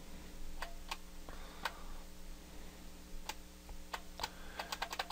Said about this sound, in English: and then I start backspacing.